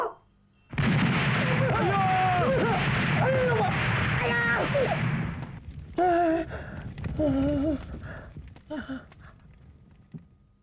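A bomb explodes in a Tamil feature film, a loud, dense roar that bursts in suddenly and rumbles on for several seconds before dying away, followed by raised voices calling out.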